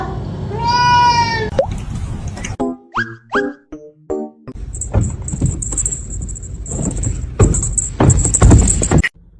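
A kitten mews in several short, high cries amid handling noises, rustles and clatter close by.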